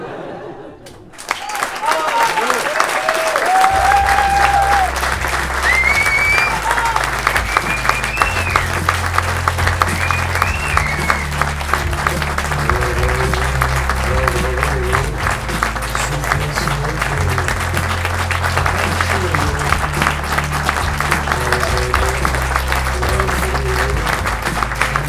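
Sustained, vigorous applause from a theatre audience at the Royale Factory in Versailles at the end of a show, loud and dense throughout, with laughter and some chatter mixed in.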